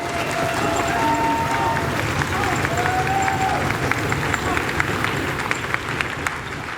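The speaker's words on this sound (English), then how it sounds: "I'd just like to have a round of applause for Cece from Huna." A crowd at a Celebration 2018 Native dance gathering applauds, a broad, steady wash of many hands clapping at close to middle distance, with scattered sharper claps and faint voices mixed in throughout.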